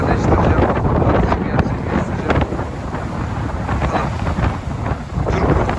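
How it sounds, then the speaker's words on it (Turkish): Strong wind while fishing buffets the microphone with a constant low roar and rumble, broad and noisy throughout, with no distinct other sounds. "Arkadaşlar hava çok rüzgarlı."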